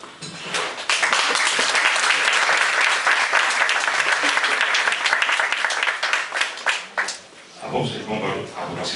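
Sustained applause from an audience at a book presentation, dense and loud for most of the clip, then thinning out toward the end as a voice begins to speak.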